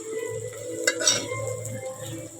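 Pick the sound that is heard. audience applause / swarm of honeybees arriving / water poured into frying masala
water poured into frying masala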